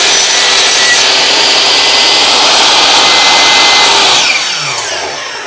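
A miter saw pulled down through a piece of wood, a loud continuous whining cut lasting about four seconds, then the blade spinning down and fading.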